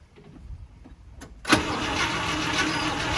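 A 1972 International Scout II is cranked. After a quiet stretch of faint clicks, the engine bursts into a loud, rough, continuous run close by.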